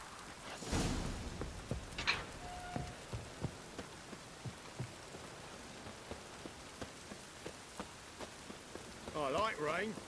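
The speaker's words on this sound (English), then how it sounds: "I like rain. Keeps the roads indoors." Steady rain pattering throughout a scene in The Witcher 3: Wild Hunt, with soft repeated drips, under intermittent voices and a few sharper knocks.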